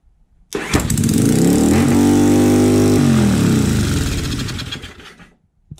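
A Yamaha XV750 motorcycle engine fires up without choke and runs loud and close for about five seconds with a steady, throbbing idle, then cuts off abruptly.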